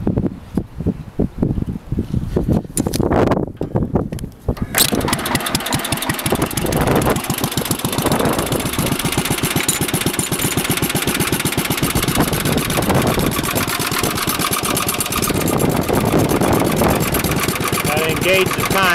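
A 1948 Ariens tiller engine is cranked, catches and settles into a loud, steady, rapid chugging run, close by, with a voice talking over it at times.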